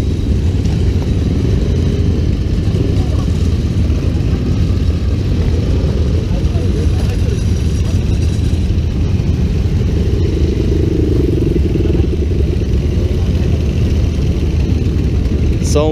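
Loud, rumbling custom motorcycles arriving at a meetup idle and rev close by, a continuous throaty roar with clattering mechanical noise throughout.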